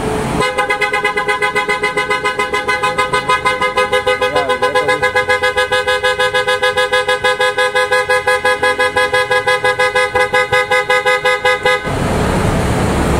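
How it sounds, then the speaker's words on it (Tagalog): A Hyundai Accent's car horn blares continuously for about eleven seconds, loud and close, with a slight rapid pulsing in its steady tone before cutting off. "pakinggan natin yung tunog ng horn natin mga bossing"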